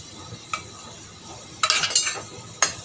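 Shallots, cinnamon sticks and cloves sautéing in hot oil for mutton curry, with a few scattered scraping stirs and clinks of a spoon against the pan over a faint low sizzle, loudest in a brief cluster of strokes near the end.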